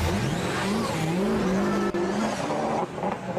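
A drift car slides through a competition battle run at the Croix-en-Ternois circuit in France, engine revving hard and wavering under sustained tire squeal, loud and close for the whole stretch with a brief dip near the end.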